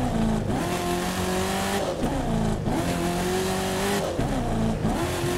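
Car engine in the racing game The Crew 2, revving loudly and steadily with rising and falling pitch as gears shift, plus tire noise throughout, no voices.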